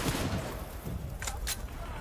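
Rapid bursts of gunfire from PUBG Mobile during a competitive grand final match, dense overlapping shots and booms over continuous game noise, with a commentator talking over it.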